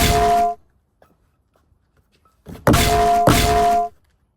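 A frying pan used as a makeshift weapon rings out with a loud, close metallic clang that decays, then after a pause two more heavy clanging hits follow in quick succession.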